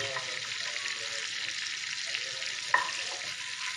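Garlic frying in a mix of olive oil and butter gives off a steady, soft sizzle with a faint crackle throughout and one small clink near the end.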